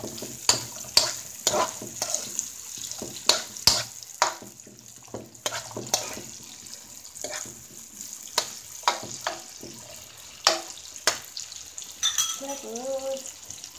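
Onion and garlic sautéing in a pan: a continuous sizzle broken by repeated sharp scraping and stirring knocks of a utensil against the pan, close and fairly loud, with brief speech near the end.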